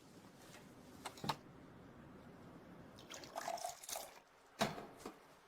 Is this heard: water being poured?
yes